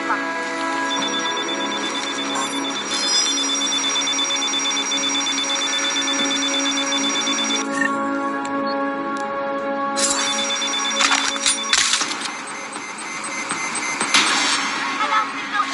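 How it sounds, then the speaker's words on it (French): An alarm going off in the video game Deus Ex, a continuous electronic ringing tone that persists through most of the stretch with game sounds and a voice over it. "Alarme déclenchée!"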